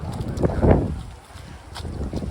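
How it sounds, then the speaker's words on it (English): Gusts of wind buffet the microphone outdoors at a 24-hour running festival in Adelaide, swelling in low rumbling surges with a lull in between before picking up again. "you get these gusts of wind"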